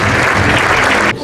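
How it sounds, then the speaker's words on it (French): Loud, dense audience applause at an award ceremony for mayors, a close burst of clapping that cuts off abruptly just before the end. "vous pouvez l'applaudir"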